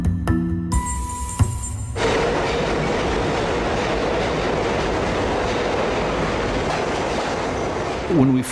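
A New York subway train rumbles and clatters loudly and steadily for several seconds after a short burst of other sound at the start, with a brief screech near the end.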